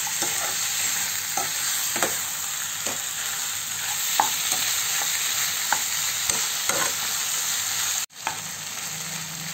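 Chicken sizzles steadily in a hot pan while a utensil scrapes and stirs through it in irregular strokes, close and fairly loud, with no voices.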